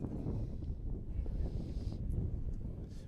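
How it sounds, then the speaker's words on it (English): Wind gusts across an outdoor baseball field in a steady low rumble buffeting the microphone, rising and falling slightly with faint rustling on top and no voices. "It's for sure windy out here today."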